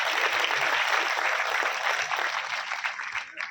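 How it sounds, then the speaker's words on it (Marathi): An audience at a program in Nanded claps loudly and steadily for a few seconds, a dense wash of applause that fades slightly toward the end. "एकदा जोरदार टाळ्या मित्रांनो"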